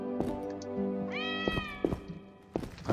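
A cat meows inside The Witcher video game: one clear rising and falling meow near the middle, sitting over a steady tonal game-music bed with a few soft thumps around it.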